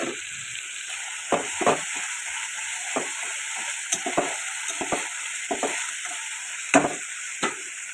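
Garlic, ginger, onion and tomato frying in hot oil, a steady close sizzle and hiss with intermittent spatula scrapes and stirring clicks throughout.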